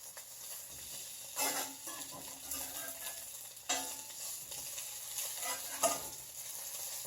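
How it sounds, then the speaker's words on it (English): Homemade salmon burgers sizzle steadily in a hot pan, a soft continuous frying hiss with a few louder crackling surges and light scraping, close and with no talk. "I've had my salmon burgers in my pan for about 3 minutes."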